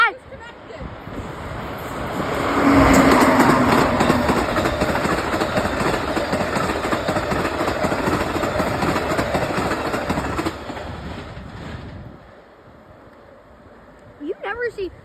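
Two diesel locomotives of an Amtrak passenger train passing close by, a heavy building rumble and rattling roar of wheels on rail that swells loud, holds, then drops off, with a horn-like tone and voices at the end.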